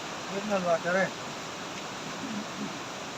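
Mountain spring water runs in Battagram district as a steady, even hiss of flow, with a voice speaking briefly near the start.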